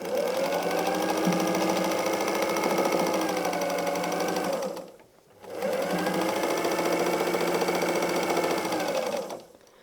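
A sewing machine stitches a patchwork quilt top in two steady whirring runs, loud and close, with a brief pause between them where the motor stops and restarts.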